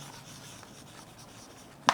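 Handwriting during a geography lesson, a faint continuous scratch of a pen or chalk stroke that ends with a brief sharp tap, heard close and quiet.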